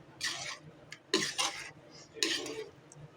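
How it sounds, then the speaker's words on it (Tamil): Eggplant being stirred into a Tamil oil-based eggplant curry in a pot, with a few bursts of a spoon scraping and clinking against the pot in uneven strokes, moderately loud with short quiet gaps between them. "கத்திரிக்காயும் சேர்த்துக்கிறேன். நல்லா கிண்டி விட்டுக்கலாம்."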